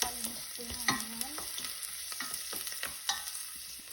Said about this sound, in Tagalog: Nagsitay ako dito ng sibuyas, bawang at saka yung spring onion.